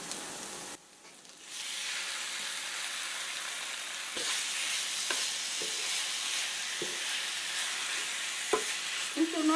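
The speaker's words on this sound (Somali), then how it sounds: "waxaan ku haystaa hilib oo steak aan jarjaray yariis u jarjaray aan ku dhex darayaa" Cut-up steak frying in a pan at home, a steady loud sizzle filling the clip with occasional sharp clinks and scrapes of stirring, no talking.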